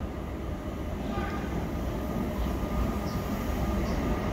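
Train rumble at Rotterdam Centraal station, a steady low roar of rolling stock and station ambience throughout, with faint scattered noises above it.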